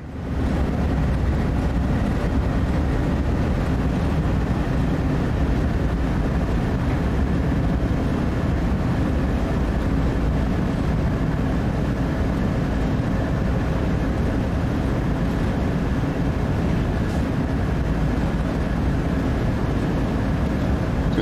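A train in the Train Sim World 3 game rumbles along at a constant, loud, low drone, unbroken for the whole stretch with no speech over it.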